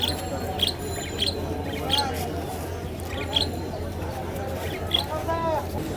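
Pigeons at the Mirpur 14 pigeon market, fancy and racing birds for sale: repeated short coos and chirps scattered through a busy crowd murmur, with people talking close by.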